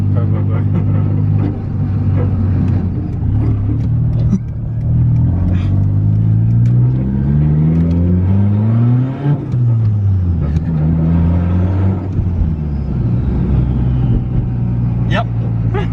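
A Mitsubishi Evo with a 4G93 SOHC turbo engine and no exhaust revs up and down repeatedly, a loud raw rumble rising and falling in long sweeps, with voices talking over it.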